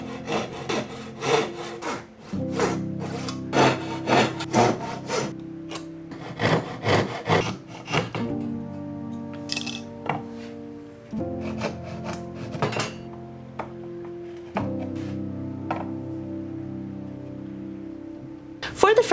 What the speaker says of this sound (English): that center dividing piece I was talking about earlier needs to be notched a bit in order to fit in between the